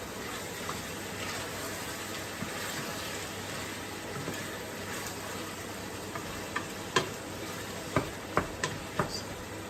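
Kale and okra curry sizzles steadily in a pan while being stirred, a continuous frying hiss with a few sharp spoon clicks against the pan toward the end.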